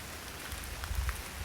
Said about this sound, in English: What a blah, rainy October morning. It's raining.